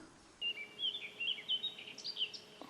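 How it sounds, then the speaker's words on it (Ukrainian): Birds sing nearby at a forest lake with a string of bright, quick chirps and trills, repeating over a quiet background. "Пташечки співають."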